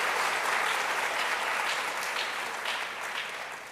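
Audience applause at a women-in-innovation event in Ghana, honouring a telecom CEO: a dense, steady wash of clapping that fills the room and fades slightly toward the end.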